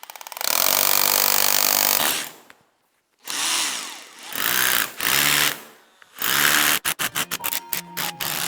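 A power drill whines loudly in several bursts of varying length, revving up and stopping while boring into a garage wall structure, ending with rapid short stuttering pulses.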